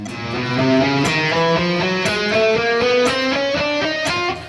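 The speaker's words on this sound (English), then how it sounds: "the good old-fashioned 1, 2, 3, 4 chromatic exercise" An electric guitar plays a steady 1-2-3-4 chromatic exercise, single notes stepping upward, with regular sharp metronome clicks marking the beat.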